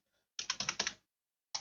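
Quick burst of about six keystrokes on a computer keyboard, close and crisp, followed by a pause and one more keypress, with no talk.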